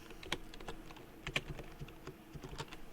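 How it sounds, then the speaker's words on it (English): Rapid clacking of computer keys, loud and close, in an uneven rhythm of quick taps with no voices. "my keyboard is loud"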